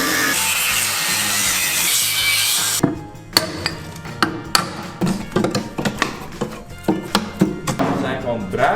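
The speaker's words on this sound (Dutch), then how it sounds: "Laten we een stuk eruit slijpen en dan goudstaven in ontvangst nemen." An angle grinder cuts into the metal fuel tank of a Type 69-II tank: a steady, loud, harsh grinding hiss for about three seconds, then stops and gives way to a run of sharp metallic clanks and knocks.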